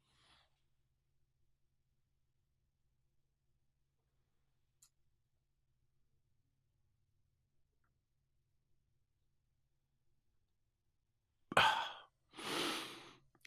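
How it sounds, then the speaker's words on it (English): A long quiet stretch ends with two breaths, one in and one out, drawn through a narrow stir stick with the nose pinched. The breaths are short, airy and close. "we want to pinch our nose and breathe in and out of the stir stick as long as we can"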